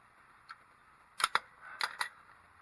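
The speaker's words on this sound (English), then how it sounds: "I'm going to go ahead and loosen up this oil pan bolt." Vise grips working loose an oil pan bolt, with a few sharp metallic clicks and clanks in two short bursts, close by and otherwise quiet.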